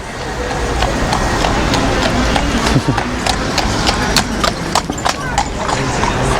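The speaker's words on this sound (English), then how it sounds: "here comes a horse and cart" Horse hooves clip-clop steadily along a town road as a horse and cart passes, the hoofbeats clear over continuous traffic and wind noise, with a voice talking nearby.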